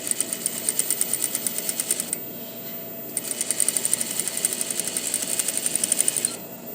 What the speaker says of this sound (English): I'm just going to keep my eye there watching, so I sew this nice edge stitch.